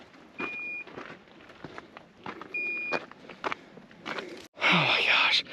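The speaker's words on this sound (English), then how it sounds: "So the beeping noise was my drone controller." Drone controller left switched on in the desert, giving two short, thin electronic beeps a couple of seconds apart, faint under nearby rustling, footsteps and a person whispering.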